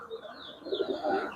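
Nil Dumba pigeons coo softly in a short, faint burst of low warbling calls with a few chirps, close by and without speech.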